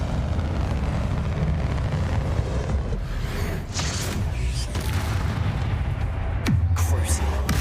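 A Bombarda spell explodes in Hogwarts Legacy as a deep, rumbling blast within a dense, continuous wash of loud game noise, with a sharper burst near the end.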